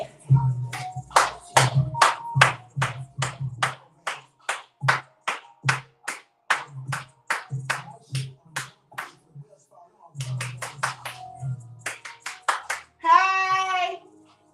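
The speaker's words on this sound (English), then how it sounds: "clap it up for myself" A woman claps her hands for herself after finishing a Peloton spin class ride, a long run of sharp, close, evenly spaced claps, with a brief pause and a quick final flurry.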